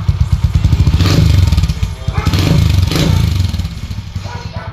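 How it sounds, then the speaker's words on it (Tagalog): Motorcycle with a stainless chicken pipe exhaust revved hard at full throttle, a loud close engine roar that surges in several long pulls, with a voice talking faintly underneath. "Ayan po yung ingay niya pagka piniga ng todo doon sa silinyador."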